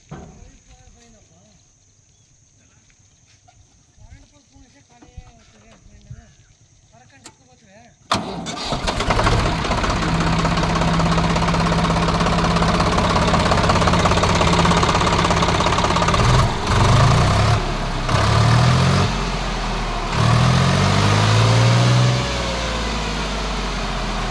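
A tractor engine that had been failing to start cranks and catches after a quiet stretch, then runs loud and steady with a rough, knocking idle close by.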